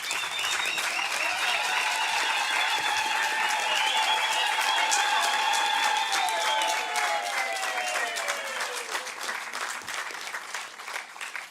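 A large crowd applauds loudly and continuously, with rising cheers and whoops over the clapping before it slowly thins out.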